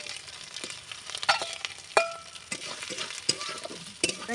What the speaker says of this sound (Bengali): ভেজে রাখা আলুগুলো দিয়ে দিচ্ছি